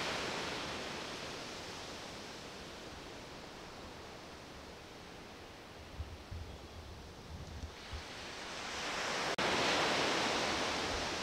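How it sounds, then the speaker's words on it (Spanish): Beach surf at Playa Icacos in Acapulco makes a steady, broad hissing wash of waves that swells louder toward the end, with no voices. "La playa Icacos."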